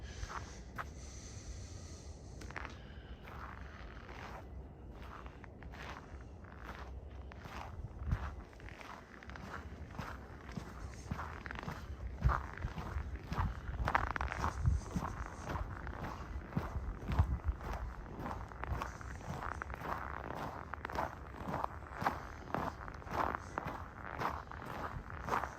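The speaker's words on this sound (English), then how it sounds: "there you can hear the snow crunching a bit anyway." Footsteps crunch through snow on a December evening walk around the Cathedral Area of Regina, a steady, close, rhythmic crunch at a walking pace running throughout with no talking.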